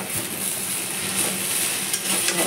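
A spoon scrapes and stirs flattened rice pulao with ghee in a pan, giving a continuous soft, gritty rustle and a gentle sizzle close by, with a few small clinks. No one speaks.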